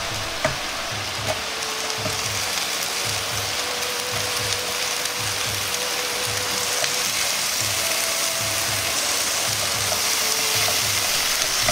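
Vegetables with bamboo shoots stir-frying over low heat in a frying pan, a steady continuous sizzle with faint scraping and stirring, close and alone without talk.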